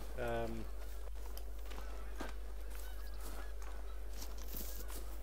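A short burst of geese honking in a hunting video game rings out at the start, then fades into a quiet background with faint rustling and scattered noises.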